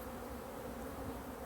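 Bees shaken off a hive frame during a brood inspection, a dense, steady buzzing swarm close by with no pauses.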